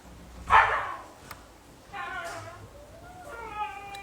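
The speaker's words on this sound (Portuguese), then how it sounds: "ela tá na live aqui latindo" Violeta, a pet dog, gives a few short barks and yips nearby, in separate bursts with quiet gaps between them.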